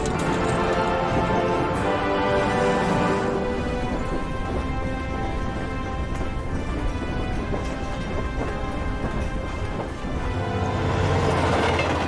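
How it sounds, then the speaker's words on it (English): A train in the video game Syberia clatters past with a loud, continuous rumble and rhythmic wheel clacking over the rails, steady for the full length with a slight swell at the end. "That's a short train."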